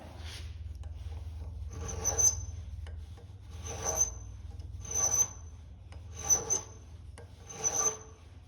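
A file bevels the edges of bronze flanges in five evenly spaced rasping strokes, each with a bright, squeaky scrape, over a low steady hum.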